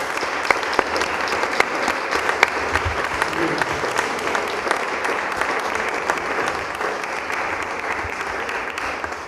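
Award ceremony audience breaking into sustained, dense applause that holds at an even level for the whole stretch, with a faint murmur of voices beneath.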